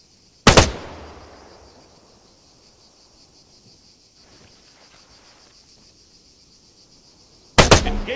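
Two sharp, loud rifle shots in the Arma 3 video game, one near the start and one near the end, each with a short fading tail, separated by quiet ambient game noise.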